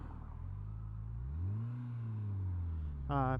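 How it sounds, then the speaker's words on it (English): A police car drives past a rider on a 2013 Yamaha FJR1300A, its engine rising and falling in pitch as it goes by under steady road and wind rumble, followed by a brief voice at the end. "Cop car."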